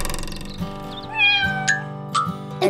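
A cartoonish cat gives a few clear meows, set against the steady backing music of a Spanish-language children's song.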